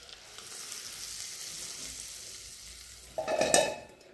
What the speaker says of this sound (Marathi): बघा थोडा हाफ फ्राय झाला आहे लसूण